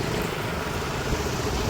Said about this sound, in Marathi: एवढं ट्रॅफिक आहे